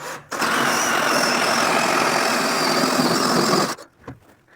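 A steady, loud drill whine as a hole saw grinds through 1-inch plywood for several seconds, then stopping abruptly, leaving quiet handling noises.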